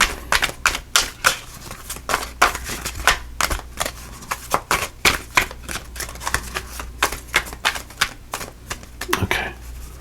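Tarot cards being shuffled, a steady run of quick papery riffles and flicks repeating close by for the whole stretch, with no talking.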